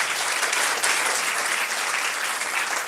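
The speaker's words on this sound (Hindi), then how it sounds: "एक अच्छी ताली प्रभु के लिए।" Steady, dense clapping from a church congregation, even and sustained throughout, with no voices breaking through.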